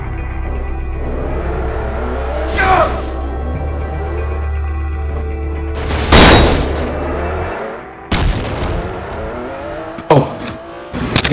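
A Type R Supra with VTEC races in a GMod game, engine droning low and steady before loud crunching impacts around the middle, followed by more sharp crash bursts, with no voices.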